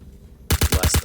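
Rapid burst of gunfire in the video game Star Citizen during an FPS hijack mission, about six loud sharp shots in quick even rhythm after a short quiet stretch.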